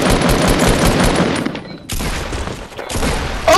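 Rapid video-game gunfire fills the first half in dense, loud bursts, then breaks off and resumes as a rougher, scattered volley of shots.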